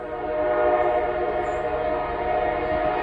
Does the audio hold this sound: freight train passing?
yes